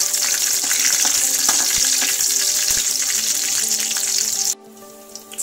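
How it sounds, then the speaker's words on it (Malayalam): Onions and a slit green chili sautéing in a pan for a Kerala-style soya chunk masala curry, giving a steady loud sizzle with stirring scrapes that cuts off abruptly near the end. "ഇനി നന്നായിട്ട് ഇത് വഴറ്റി കൊടുക്കാം."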